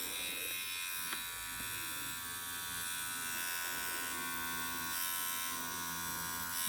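A WOS E60 wireless direct-drive tattoo pen machine runs with a continuous high, even electric buzz, close and steady for several seconds with no talking.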